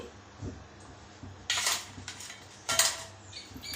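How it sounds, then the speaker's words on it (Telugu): Coriander seeds pour into a pan on the stove in two short rattling bursts, with light metallic knocks of a utensil between them, close and fairly clear. "స్టవ్ ఆన్ చేసి ఒక బాండ్లీ పెట్టి అందులో ధనియాలు వేద్దామండి"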